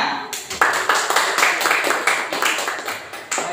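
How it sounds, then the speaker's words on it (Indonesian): Classroom applause for the students after their group presentations, a dense burst of many hands clapping that sustains steadily at moderate loudness with a few stronger swells. "Tepuk tangan untuk semuanya."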